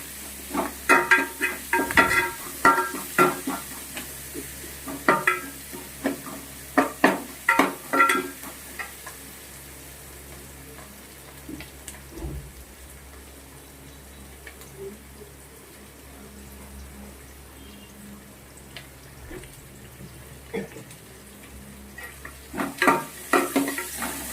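Onions and tomato stirring and sizzling in a pan, with scraping clicks and utensil knocks over a steady low hiss; no voices.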